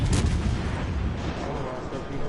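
Warship guns fire in World of Warships as a deep, rumbling boom that rolls on and fades over a couple of seconds.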